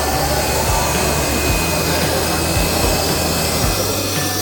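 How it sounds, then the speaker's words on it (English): A vacuum battery lifter's suction pump drones continuously at close range, a loud, steady, airy roar with low hum that never lets up. "Once it is located, turn on the vacuum and engage the part."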